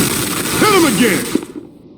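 Gunfire in the Batman Telltale series video game, a short burst of shots over a shouted voice and game noise, ending abruptly.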